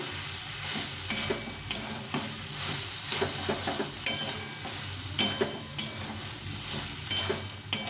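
Boiled soybean chunks are stirred and fried in a thick spice paste, a steady close sizzle under regular scraping and tapping of a spoon against the pan, with no talking.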